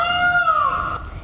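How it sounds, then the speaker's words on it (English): A big, colorful bird gives one long, loud, drawn-out call that slides downward, close and clear against a quiet background. "It's just a big, colorful, loud bird."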